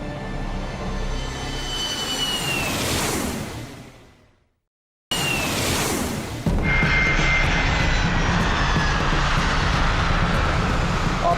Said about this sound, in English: Our plane lands safely.